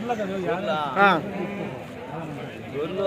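Sheep bleat close by at a sheep and goat market in Kadiri, one loud quavering bleat standing out among several others, with people talking in the background.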